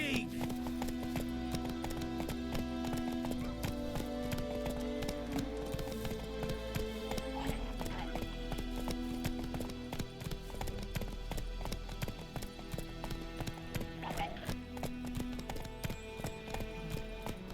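Galloping horse hooves with a rider in The Witcher 3 video game beat in a continuous clip-clop rhythm, mixed with game music and ambience, while voices speak over them.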